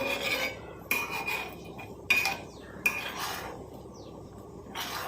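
A utensil scrapes and stirs homemade black cumin (nigella seed) hair dye oil heating in a metal pot in four or five distinct strokes, each starting with a clink against the pan.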